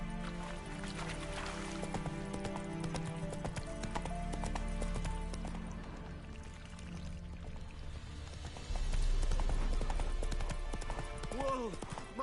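A horse in the Witcher 3 video game clip-clops along at a run, with steady hoofbeats over continuous game music and ambience, growing louder in the last few seconds.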